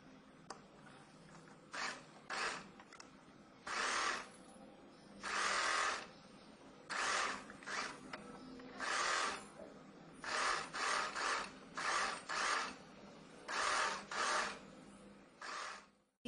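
Sewing machine sewing long stitches on an umbrella frock, running in a dozen short, fairly quiet whirring bursts separated by pauses, with no talk.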